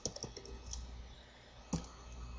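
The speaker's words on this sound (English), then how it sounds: "so I'm going to type in gender" C++ code is typed on a computer keyboard in a quiet room, with soft, irregular key clicks tapping in small clusters and one sharper keystroke near the end.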